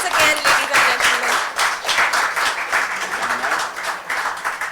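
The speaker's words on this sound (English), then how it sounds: "Can we give them a huge round of applause once again, ladies and gentlemen?" An audience at a literature and art festival applauds loudly and steadily, dense clapping filling the whole stretch without a break, the sound close and full throughout.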